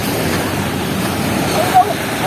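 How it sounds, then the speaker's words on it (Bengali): Sea waves wash in at the beach, a broad rumbling surge mixed with wind buffeting the microphone, with a brief louder bump near the end. "ঢেউ একটু পরে পরে ঢেউ হইতেছে"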